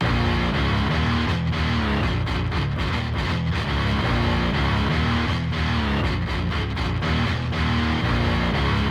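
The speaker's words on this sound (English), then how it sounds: "For some reason, it has a really good rhythm guitar patch." Layered Flex Power Quarter rhythm guitar patches in FL Studio play a dense, continuous distorted chugging riff with brief rhythmic stops, loud and steady throughout.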